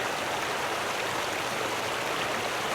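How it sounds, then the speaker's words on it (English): Water trickles steadily through a camping water filter, a dense, even hiss of drips and flow that holds constant and close for the whole stretch, with no voices. "it just casually sort of drips in"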